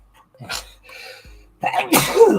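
A single loud sneeze bursts out close by after a faint intake of breath, sharp and noisy, with a quieter huff just before it.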